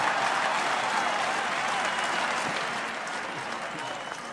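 A large crowd applauds Viktor Orban at an open-air political rally in Budapest, a dense, steady wash of clapping and cheering that fills the whole stretch and fades slightly toward the end.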